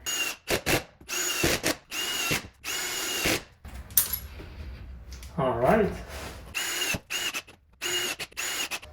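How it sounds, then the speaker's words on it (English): Power drill driving screws through drywall into wood studs in repeated short whirring bursts, close and loud, with a brief pause where a voice speaks a word. "I'll drill it to secure this drywall to this wood"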